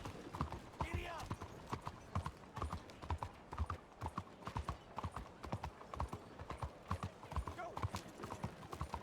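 Horse hooves clip-clop in a steady, rhythmic trot in a video game, close and distinct, with the occasional faint whinny.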